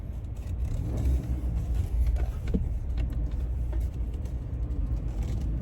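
Road traffic passes by as a steady low rumble of vehicles with swelling engine noise, continuous and fairly loud, with no talking.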